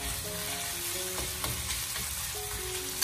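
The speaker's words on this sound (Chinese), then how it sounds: "用中火给它煎制一下，把肉片煎香。" Pork slices frying over medium heat in a wok, a steady close sizzle with soft crackling that fills the clip and carries no talk.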